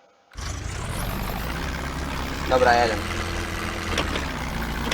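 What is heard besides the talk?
loud tractor engine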